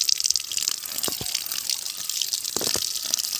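Tap water gushes steadily over oysters as they are washed in a sink for a Bengali oyster recipe, with a couple of faint knocks of shells in the stream.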